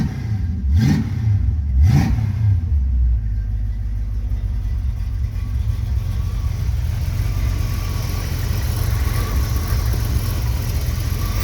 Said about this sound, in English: Can you rev it, Dan?